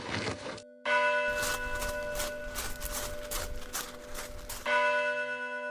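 Several church bells peal loudly and continuously from a house, their overlapping strikes ringing out with long sustained tones, with a brief pause near the start.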